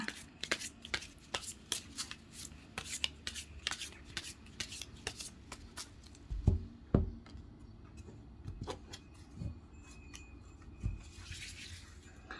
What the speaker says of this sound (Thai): ขออนุญาตจับไพ่สักครู่นะคะ